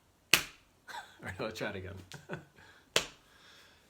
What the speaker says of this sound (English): this hand seems to be clapping nothing and making a noise